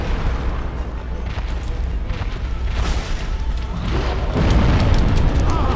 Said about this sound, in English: That attack where he slams his hammer down, that still has an AoE explosion effect.